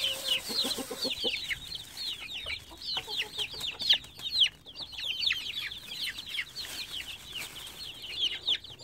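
Hens cluck in rapid, repeated bursts close by in a rural coop, with brief lower clucks among them and no talking.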